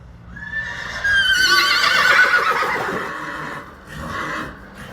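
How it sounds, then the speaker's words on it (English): A tall black-brown horse with a white star and snip whinnies loudly and at length, close by, followed by a softer snort-like breath near the end. "He's a handsome, tall, black-brown horse."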